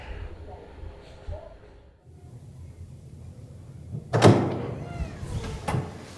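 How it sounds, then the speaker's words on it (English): A door in Japan's Aichi Prefecture is pushed open all the way, giving a sudden loud clunk and a scraping rattle after a quieter stretch of room noise. "Now we can open the door all the way."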